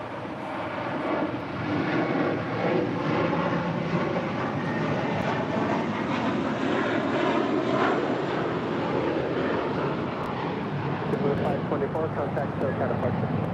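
Airliner engines roaring steadily and loudly during a takeoff roll on runway 25 at Los Angeles International Airport, a broad continuous rumble that holds throughout, with air-traffic radio talk faintly alongside.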